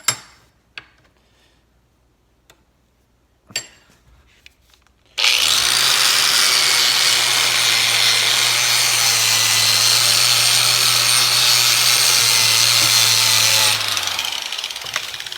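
A wire wheel scrubs rust off a 1997-2003 Ford F-150 wiper part, a loud, steady abrasive whir running about nine seconds after a few quiet clicks and handling knocks, then cutting off.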